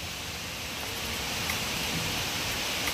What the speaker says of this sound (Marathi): हे बघा किती जोराचा पाऊस पडत आहे